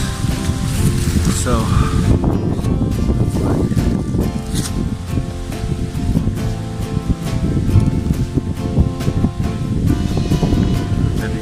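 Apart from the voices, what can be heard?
wind blowing on a mountain trail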